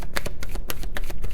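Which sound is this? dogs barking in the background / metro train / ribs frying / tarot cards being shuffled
tarot cards being shuffled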